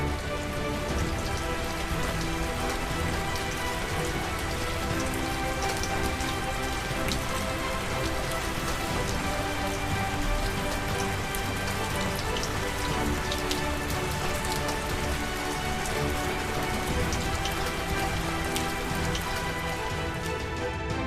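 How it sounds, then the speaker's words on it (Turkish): Steady rain falls over green tea gardens in a village in Rize, Turkey, a dense continuous patter of drops spread evenly across the whole stretch, close and fairly loud with no voices. "Yağmurun yeşil çay bahçeleri üzerine süzülerek yağdığı saatlerde ise bir başka güzelliğe bürünüyor büyük köy."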